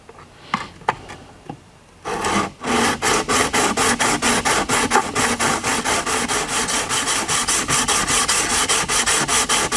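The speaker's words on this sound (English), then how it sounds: "and then hone it out. So let's get all of these striations out of here." A shear blade is honed on a double-sided stone to remove striations. After a few scattered scrapes, steady rhythmic back-and-forth rasping strokes follow closely at an even fast pace, loud and continuous, with no talk.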